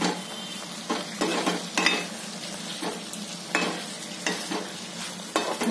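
Bell peppers and tomatoes stirred in a frying pan for a spiced capsicum dish, with steady sizzling and repeated scraping strokes of the spoon at close range, no voices.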